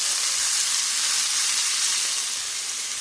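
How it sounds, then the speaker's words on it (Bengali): Chopped onion frying in a pan alongside chopped green chilli for a potato-cauliflower curry, a steady dense hiss of sizzling oil filling the whole stretch with faint stirring beneath it. "খুব বেশি পেঁয়াজটা ভাজবো না, হালকা নাড়াচাড়া করবো"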